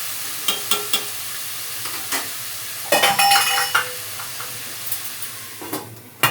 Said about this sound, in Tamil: இது நல்லா ரெட்டாக வதங்கணுங்க. எவ்வளோ ரெட்டாக வதங்குதோ அவ்வளோ குழம்பு டேஸ்ட்டு.